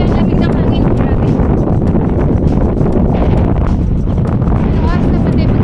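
Cold wind buffeting a microphone on a cycling path in Belgium on a winter evening, a steady loud roar of gusts and rumble throughout, with no talking.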